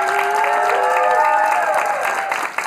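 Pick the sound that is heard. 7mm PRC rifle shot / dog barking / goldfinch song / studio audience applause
studio audience applause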